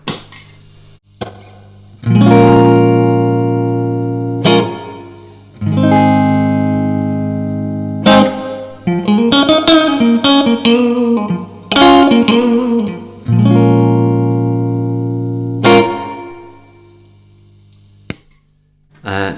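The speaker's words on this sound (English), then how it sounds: "And this is the spring reverb." Electric guitar run through the spring reverb setting of a Keeley Caverns V2 pedal, strummed chords and a picked lead passage ringing with a lingering wash of reverb, loud and close, sustained tails fading in the pauses.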